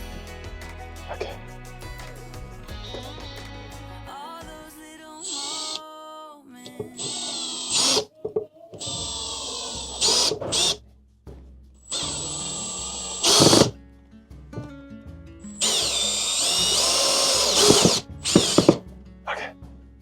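A power drill drives a screw into a shelf in several loud whirring bursts that stop and start, with ratcheting clicks in between.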